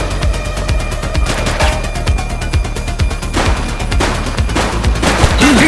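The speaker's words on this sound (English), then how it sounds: "Shots fired!" Gunfire rings out in the police video game The Precinct, with rapid bursts and repeated loud shots over a busy, dense background of action sounds.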